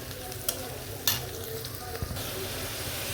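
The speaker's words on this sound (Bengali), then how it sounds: "মশলাটা কষানো হয়ে গেল" Spice paste with turmeric, chili and ginger-garlic sizzles while being sautéed in a pan, a steady close frying hiss with a few sharp clicks of stirring.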